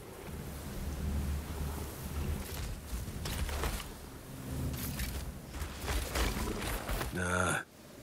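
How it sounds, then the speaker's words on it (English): A thunderstorm brews in the Outriders video game, with rain, wind and low rumbling thunder swelling and easing under game noise, ending in a brief tonal sweep. "Got some kind of storm brewing."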